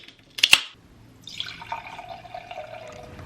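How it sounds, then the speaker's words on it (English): Whiskey, bourbon, poured into a glass: a couple of sharp clinks of the bottle at the start, then a steady close trickle of liquid running for about two seconds, with no talking. "I don't know how much whiskey you pour in a glass."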